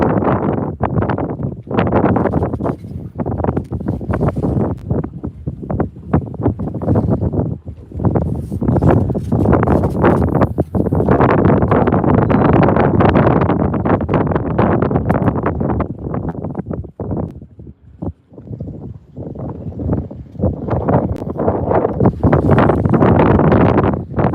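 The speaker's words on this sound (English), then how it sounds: "Windy on the mainland." Strong wind buffets the microphone continuously, roaring and gusting with brief lulls, no voices heard.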